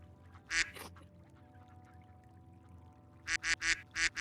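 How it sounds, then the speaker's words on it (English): Duck quacks as a sound effect during a Dungeons and Dragons marker-art session: one double quack early, then a quick run of five loud quacks near the end over a quiet background hum. "I wasn't even registering the duck."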